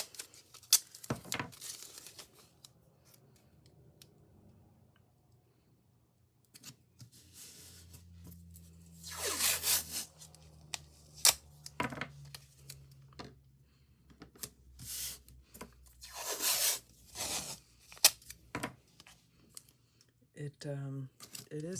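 Tape is torn and pressed onto a painting surface: quiet crinkles and sharp ripping bursts come in uneven clusters, with a person talking in between.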